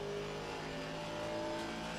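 A race car engine in Assetto Corsa Competizione on the Nürburgring is held at full throttle, a loud, steady, sustained roar with no pause through the stretch.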